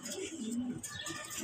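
Budapest racing pigeons coo in a low, continuous murmur close by, with a few higher bird chirps over the top.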